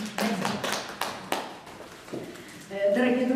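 An audience at an exhibition of Crimean painting and graphic art in Kerch gives a short burst of scattered clapping, which fades before a voice starts speaking.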